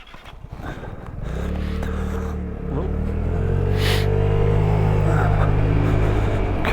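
A Vespa scooter engine rises in pitch as it accelerates to about 35, a close, steady rumbling whine that builds in loudness, with a brief scrape-like braking noise near the end.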